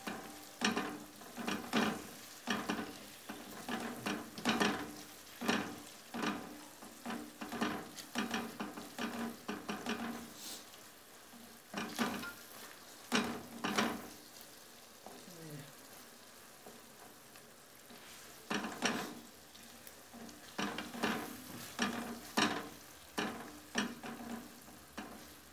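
Erişte noodles frying in oil in a pan, stirred repeatedly, give a steady run of scraping, clattering stir strokes over a soft sizzle, close and moderately quiet, with a brief pause midway.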